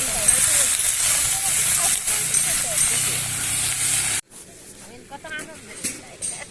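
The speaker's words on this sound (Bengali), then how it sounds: "মাংস তেলের মধ্যে দিয়ে এবার ভাজা হচ্ছে।" Meat frying in hot oil in a home kitchen, a dense steady sizzle that cuts off partway, followed by quieter clatter and a voice talking.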